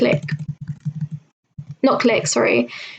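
Computer keyboard keys are pressed in quick rhythmic bursts of clicks, close and clear, followed by a pause and then someone speaking.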